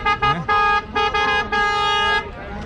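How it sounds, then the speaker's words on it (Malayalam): Vehicle horns honk repeatedly on a busy Delhi street near Jama Masjid, several loud, bright toots in quick succession, ending with one long sustained blast over low traffic noise. "അതാ ഹോൺ അടിക്കുന്നത്."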